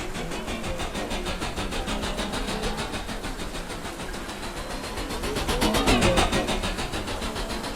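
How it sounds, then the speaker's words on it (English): A hover police car sound effect: a continuous mechanical whirring hum with a rapid pulsing texture, swelling louder toward the end like a vehicle passing close. "Detective Clayton flies over the city in a hover police car."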